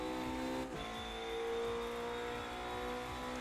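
Race car in Automobilista 2 at the Le Mans Circuit de la Sarthe, engine pulling hard under full throttle with a brief gearshift dip, a loud, close, continuous whine climbing in pitch.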